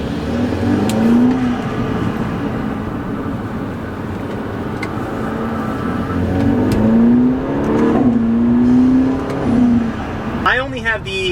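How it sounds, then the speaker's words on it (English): A 2013 BMW F30 328i fitted with an AWE Tuning Touring axle-back exhaust hums steadily at cruise, its engine note rising through revs and briefly burbling between paddle-shifted gears in sport mode, with a sharp louder burst near the end. "when you throw it into sport mode and you're changing with the paddles, it gives it like a little burble in between each gear"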